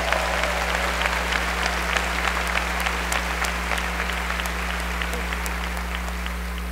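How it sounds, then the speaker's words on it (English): Audience applause at the 2016 Kenneth E. Behring National History Day awards ceremony, a steady dense clapping from a large crowd sustained evenly throughout over a low constant hum. "so another big round of applause."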